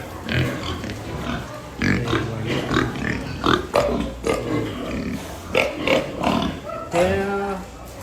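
Breeding sows on a farm grunt and snort in repeated bursts close by, one louder squealing call near the end, with people talking in between.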